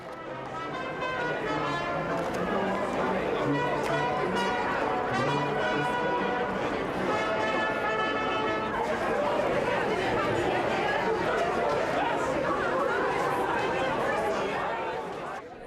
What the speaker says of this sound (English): a crowd of frenzied shoppers breaking into a run